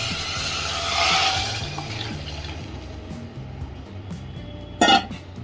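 Water poured into a pressure cooker of fish biryani, a gurgling pour building and then easing, with a clink of utensils near the end.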